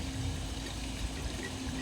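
Steady rush of waterfall water flowing in an outdoor spot, a continuous even wash of moderate loudness with no talk over it.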